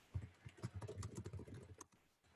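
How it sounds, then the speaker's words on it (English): Close, quiet clatter of keys as someone types a quote into Microsoft Word, a quick irregular burst of soft taps lasting under two seconds, with no speech. "If I go into Microsoft Word and I type a quote"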